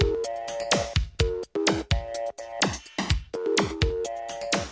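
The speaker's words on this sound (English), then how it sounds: "Harmonic phone beeps interrupt the silence as a drum beat accompanies the noise." Electronic phone beeps and ringing tones repeat in a steady rhythmic pattern over a drum beat, loud and close, forming a musical track built from telephone sounds.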